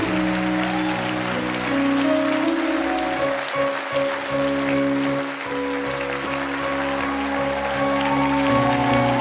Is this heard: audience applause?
yes